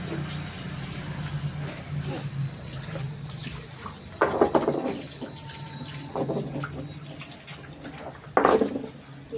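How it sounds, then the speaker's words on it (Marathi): A stone grinding slab and its grinding stone are washed under running water from a tap, a steady trickle with louder splashing bursts and scraping at two points, fairly quiet and close. "पाटा वरवंटाचं धुवून घेते."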